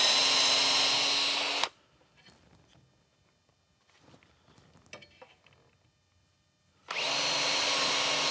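A power drill boring into wood for dowel holes whines loudly at full speed, cuts off into a few seconds of quiet handling and clicks, then roars back up again.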